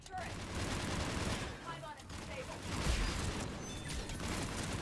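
Turret gunfire from Mass Effect 3 rattles as a dense, continuous burst of rapid shots with a heavy thump near the middle, all under the sci-fi battle ambience, while a voice speaks over it.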